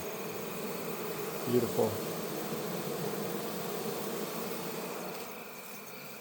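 A honey bee swarm at a new Layens horizontal hive buzzes in a dense, steady drone close by, with a short spoken remark near the start and a slight fade toward the end.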